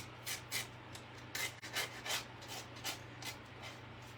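Scraping of small paper scraps off a stamping craft mat: a series of short, harsh rasping strokes in an irregular rhythm, close and fairly faint over a low steady hum, with no talking.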